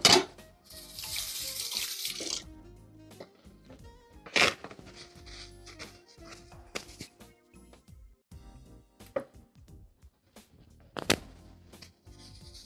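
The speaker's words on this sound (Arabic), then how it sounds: "اغسل ايدي بس ونرجع نروق حوالينا" Running water from a kitchen tap as hands are washed in the sink, a strong rush of flow at the start, then quieter splashes and brief water bursts continuing intermittently.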